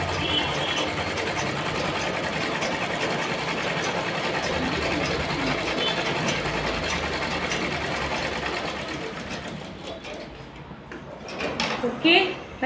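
A sewing machine runs in a long continuous whir while stitching the side-open seam of a chudi, then stops with a few clicks at the end as someone talks over it.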